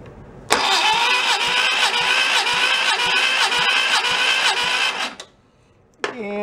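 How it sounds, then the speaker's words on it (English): The starter on a barn-find VW Beetle engine cranks for about five seconds in a fast, steady churning rhythm without catching, then stops, and after a short pause a second brief burst of cranking begins. "if you just jump the two, it'll also spin the starter"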